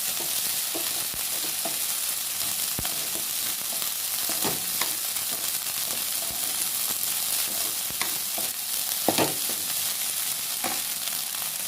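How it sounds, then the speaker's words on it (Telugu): Chicken fried rice stir-fries in a hot pan with a loud, continuous sizzle and crackle, broken by scattered clinks and scrapes of the spatula, close up and with no talking. "ఇప్పుడు ఈ రైస్ ఎలా ఉండాలంటే బాగా ఫ్రై అవ్వాలండి, బాగా వేడయ్యి ఈ బాండీలో చిట్టుపట్లాడాలండి."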